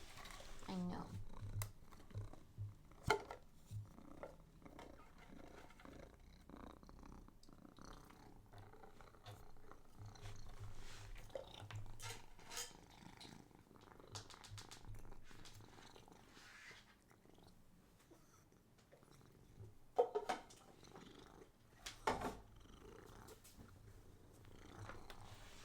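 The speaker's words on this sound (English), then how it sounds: "I can hear the purring. He purrs so loud." A house cat purring loudly up close, a low continuous rumbling hum broken by occasional clicks and bumps, with someone talking intermittently over it.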